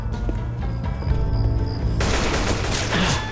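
Gunfire in the video game Left 4 Dead 2, set in a swamp: a loud, continuous rapid volley of shots that swells into a dense roar of automatic fire.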